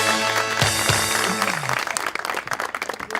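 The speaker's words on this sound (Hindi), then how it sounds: "एक दफा फिर से तालियां।" A studio audience at a TV talk show breaks into dense, lively applause that swells after a brief musical sting, filling the room with rapid overlapping claps.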